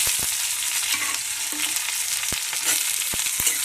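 Garlic and onion frying in a pan, giving a dense, loud continuous sizzle with a few sharp knocks of a spoon against the pan, without speech.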